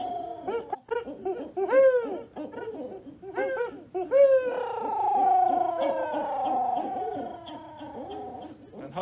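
A voice imitates a barred owl's wild caterwauling as a turkey-hunting locator call, rising and falling whooping hoots in several loud bursts, then a long wavering run of wailing calls.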